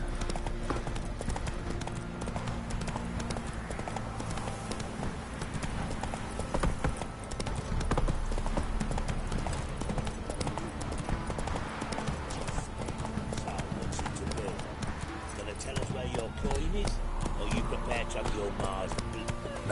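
Roach, a horse in the video game Witcher 3, gallops with a continuous rapid clip-clop of hooves over a dense bed of game music and ambience, with a voice speaking over it.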